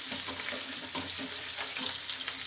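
Chopped garlic and green chillies sizzle in hot oil for a tadka, a steady close crackle with light stirring scrapes and no talk over it.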